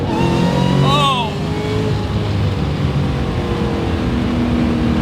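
A 1000-horsepower Shelby GT500 Mustang accelerates hard, its engine roaring loud and close from inside the car, pitch climbing through a gear change and then holding high, with voices mixed into the roar.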